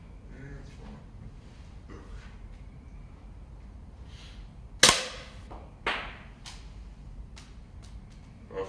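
Three gunshots, sharp cracks spread out over a few seconds, the loudest mid-clip followed by a second and a fainter one near the end, over faint background noise and some talking.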